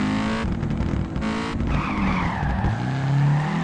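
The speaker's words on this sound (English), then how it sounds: "I hear other cars." Cars drifting in the video game Peak Angle Drift Online make loud tire squeals and skidding screeches over a steady engine roar, with the pitch sliding continuously as the cars slide through corners.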